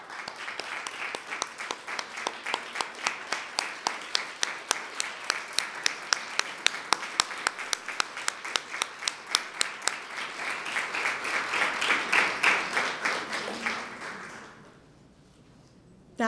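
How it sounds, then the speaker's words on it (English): A college honor society ceremony crowd gives a round of applause, dense hand clapping that swells steadily and peaks before tapering off into near silence at the end. "Would family, friends, faculty members of our students please rise for a round of well-deserved applause"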